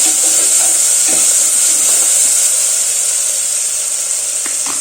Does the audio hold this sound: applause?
no